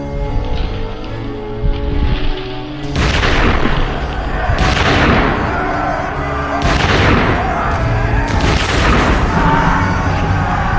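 Loud rolling volleys of massed musket fire in a Napoleonic battle, British troops firing on the advancing French guard at forty paces, four heavy booming bursts that start about three seconds in and recur every two seconds or so over a continuous din.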